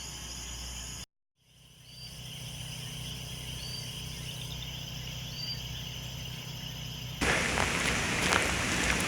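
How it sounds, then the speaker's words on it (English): Heavy rain falling outside during Hurricane Maria, a dense steady hiss with an insect-like high drone, briefly cut off, then returning and growing louder and fuller near the end. "A lot of rain."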